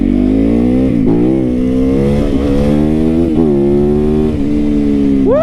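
A motorcycle ridden along country neighborhood roads, its engine loud and close as it revs up through the gears in repeated rising pulls, with a final sharp rev at the end.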